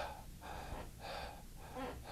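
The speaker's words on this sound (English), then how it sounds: "take a deep breath and hold it, and now breathe in and out up here" Shallow breaths drawn in and pushed out one after another, audible gasping inhalations alternating with exhalations in a steady rhythm of roughly four breaths, close and fairly quiet with no speech, as in a breathing exercise about COPD and asthma.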